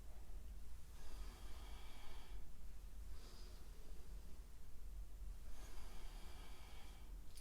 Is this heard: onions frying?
no